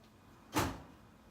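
A warm kitchen oven door swings shut after a tray of cupcakes is slid in, making a single close, soft thud with a brief rush and no talk.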